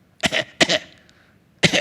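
Three harsh coughs from someone with a cold, two close together then a pause before a third, loud and near with no talking.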